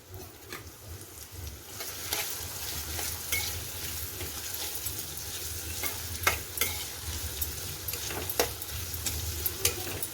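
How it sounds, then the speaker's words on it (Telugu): Green chilies, slit lengthwise, fry in a pan over raised heat during cooking of coconut milk rice, giving a steady close sizzle with occasional stirring scrapes and clinks for about ten seconds. "ఇంకేం అవసరం లేదండి, ఇవి వేగనివ్వాలి ఫస్ట్."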